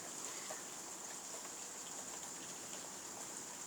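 Steady heavy rain pours during a violent thunderstorm with sleet in Carpentras, Vaucluse, forming a dense, even hiss of falling water with no pauses and no voices.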